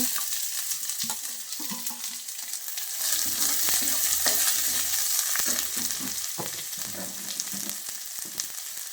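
Crushed garlic and chopped onion sizzle loudly in hot oil, with repeated scraping stir strokes through the pan for a jackfruit seed and horse gram bassaru, and no talking.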